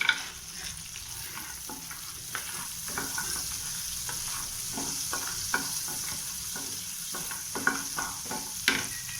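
Cashews fry in melted butter in a pan with a steady, bright sizzle, and scattered stirring clicks and scrapes run through it. No one speaks.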